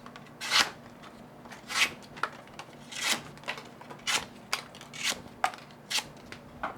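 A flat-ground knife blade makes a series of about nine short, crisp cutting strokes at a steady, unhurried rhythm, heard up close with no talking.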